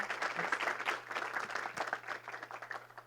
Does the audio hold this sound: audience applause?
yes